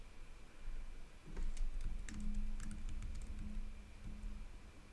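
Typing on a computer keyboard used for input to a Tetris-style puzzle game: a quick run of light clicky keystrokes in irregular bursts, close and moderately loud, with a faint steady hum underneath and no talking.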